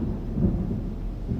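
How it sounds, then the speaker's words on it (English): Deep, loud thunder rolls from a nearby lightning bolt during a severe storm in Arkansas or Mississippi, a sustained low rumble lasting the whole moment with no voices. "Ooh, huge bolt off to the right. Wow, that was loud."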